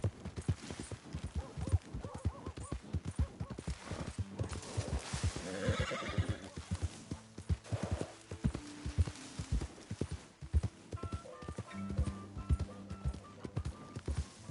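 A horse in Red Dead Redemption 2 gives a loud whinny midway through, while steady rhythmic hoof clip-clops run before and after it, with some game music tones near the end.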